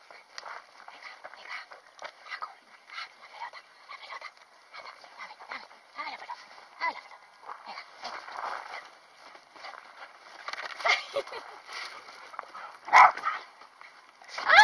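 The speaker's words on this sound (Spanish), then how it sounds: "Qué bonito el perro." A dog yips and barks intermittently during outdoor ball play, with light footsteps and people talking in Spanish throughout.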